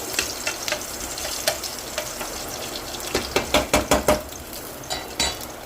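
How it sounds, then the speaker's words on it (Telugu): Garlic and onions fry in oil in a pan for vegetable pasta, a steady sizzle under scattered clinks and scraping stirs, with a quick run of taps near the end. "ఈ లోపల కొన్ని ఆనియన్స్ కూడా ఇందులో వేసుకుని ఫ్రై చేసుకున్నామండి"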